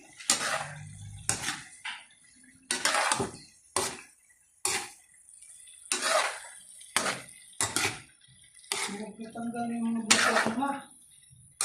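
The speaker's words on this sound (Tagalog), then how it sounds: "Haluin natin." A spoon stirring semi-chopsuey in a pan, giving repeated bursts of scraping and clattering against the metal, separated by short pauses, with voices talking intermittently.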